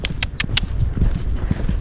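Hooves of a young horse clip-clopping at pace on an outdoor ride, a rapid uneven beat of several sharp hoof strikes standing out over steady wind and movement rumble.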